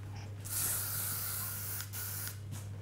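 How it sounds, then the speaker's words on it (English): Hairspray hisses from an aerosol can onto a beehive hairstyle in two steady bursts, the first longer and the second shorter after a brief pause, close and fairly loud over a low constant hum. "just finish off the whole look with a good bit of hairspray"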